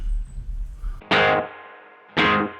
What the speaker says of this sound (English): That's what's called a slapback delay.